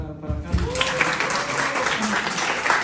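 Audience applause welcoming a guitarist at a talk on science fiction literature and music, a moderate round of clapping with some crowd noise and faint voices underneath.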